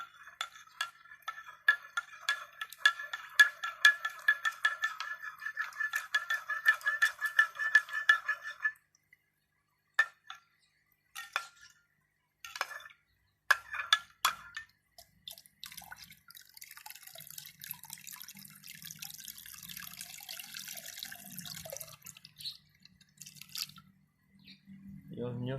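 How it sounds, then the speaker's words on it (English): Molasses is stirred into a container of water for brewing worm tea, giving rapid wet clinks and sloshing bursts, then pauses, then a softer swirl of liquid with low murmuring voices near the end. "Give it a bit of a stir, let it melt in."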